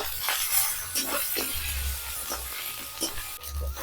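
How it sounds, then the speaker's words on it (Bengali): Spice masala of turmeric, cumin and coriander powder frying in oil in a pan for a rohu fish curry, a soft steady sizzle with intermittent scraping stirs close by. "ভালো করে মশলাটাকে কষিয়ে নেব"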